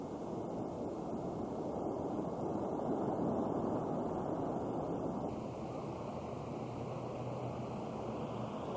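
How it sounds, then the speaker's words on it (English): Wind roars steadily through a Hurricane Luis squall in 1995, a dense, loud rushing wash like surf that swells slightly midway and buffets the microphone throughout. "we just have a gust of wind"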